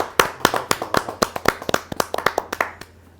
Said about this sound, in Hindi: जोरदार ताली के साथ राकेश अरोड़ा जी का स्वागत है।